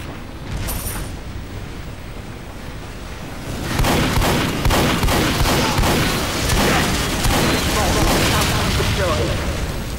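Sentry turret in Team Fortress 2 firing in sustained bursts, a dense crackling barrage of shots and booms that swells loud after a quieter opening, with talk over it.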